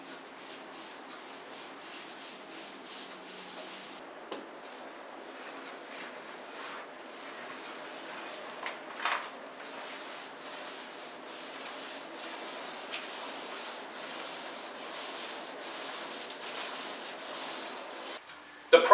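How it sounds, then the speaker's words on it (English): A paintbrush lays primer over a kitchen countertop backsplash and into its corners, giving a steady close-up scratchy rubbing that continues with little break and only brief pauses, with no talk. "I'm going to be using a paintbrush for the top of the backsplash and the corners."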